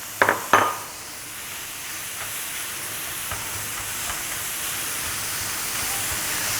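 Chopped onions hit a hot pan with a few quick clatters while making chicken tinga, then settle into a steady, close sizzle that continues alone.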